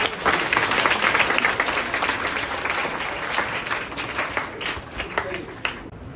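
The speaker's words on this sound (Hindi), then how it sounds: "तो एक बार तालियां बजाइए अपने पीछे से।" A classroom audience claps together during a physics lesson on light, a thick, continuous burst of applause that starts loud and slowly thins toward the end.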